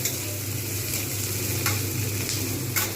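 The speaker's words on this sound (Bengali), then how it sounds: "এরকমভাবে যতক্ষণ পর্যন্ত না একটা ক্রাঞ্চি ভাব আসছে ততক্ষণ পর্যন্ত কিন্তু আমাকে এগুলো ভেজে যেতে হবে" Boiled eggs fry in a moderate amount of oil until crunchy for egg biryani. A dense, even sizzle runs throughout, with a few brief scraping stirs and a low hum beneath.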